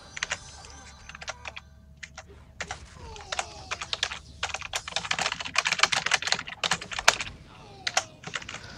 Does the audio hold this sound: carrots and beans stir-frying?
no